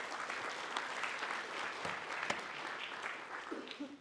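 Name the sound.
lecture audience applause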